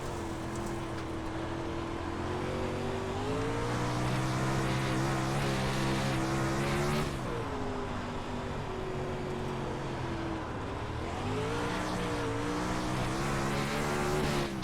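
Race car engine in the iRacing sim holds a loud, steady harmonic drone that climbs and shifts through gear changes, with a brief lift near the middle, tire noise mixed in throughout, no voices.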